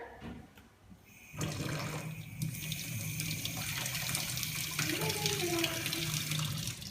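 Cold tap water runs steadily into a sink in a home kitchen as cooked food is rinsed, a continuous close splashing stream that starts abruptly after a brief quiet moment, with a faint voice in the background.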